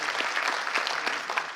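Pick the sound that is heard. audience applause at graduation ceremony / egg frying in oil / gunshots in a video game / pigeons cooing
audience applause at graduation ceremony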